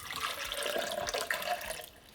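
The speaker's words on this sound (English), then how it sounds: "First to go in is just some water." Water splashes and gurgles as it is poured into a blender for a strawberry beetroot smoothie, a short, close, bubbling stream with no talking.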